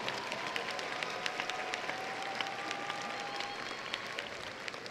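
Graduation audience at the 2013 Edward H. White High School ceremony applauding the faculty: steady, dense clapping from a large crowd, heard at a moderate distance and without talk.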